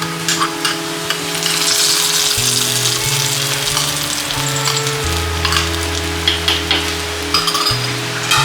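Browned tempering for fenugreek Karkkidaka kanji hisses loudly as it hits the porridge, a strong sizzle that crackles and bubbles on for several seconds, with low droning hum and stirring beneath.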